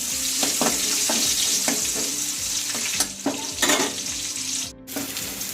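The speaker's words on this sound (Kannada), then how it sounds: "ಈಗ ಮತ್ತೆ ಅದೇ ಬಾಣಲಿಗೆ ಎಣ್ಣೆ ಹಾಕೊಂಡಿದ್ದೀನಿ. ಅದ್ರ ಜೊತೆ 1 ಈರುಳ್ಳಿಯನ್ನು ಹಾಕೊತಾ ಇದ್ದೀನಿ. ಈಗ ಸ್ವಲ್ಪ ಫ್ರೈ ಮಾಡ್ಕೊಳ್ಳಿ." Onion sizzles loudly in hot oil in a pan for a dhaba-style paneer masala, a dense steady hiss broken by a regular series of stirring scrapes, with a brief dip near the end.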